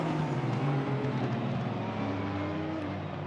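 A Porsche and a McLaren GT race car fighting for position in a sim racing game at Spa-Francorchamps, with loud, steady high-revving engine drone and whirring tyre noise continuing without a break.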